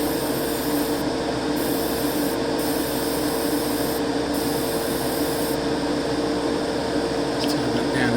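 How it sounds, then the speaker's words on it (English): A primer spray can hisses in a steady, loud, unbroken blast as it coats a Lego Bionicle mask, the spray sounding close and continuous with faint shifts in pitch. "So, as the outside sprayed, I'm going to hit the inside as well."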